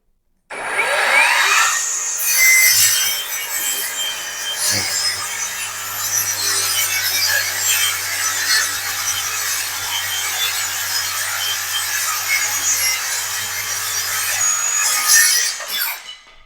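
A TOTAL TSLI14021 cordless mini circular saw runs through a wood cut, a loud continuous whining, rasping blade sound lasting about fifteen seconds before cutting off.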